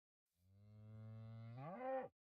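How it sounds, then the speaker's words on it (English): Cow mooing in Minecraft, a single drawn-out low moo about two seconds long that rises in pitch at the end, clear and alone. "I forgot they changed mob sounds. The classic moo will never get old though."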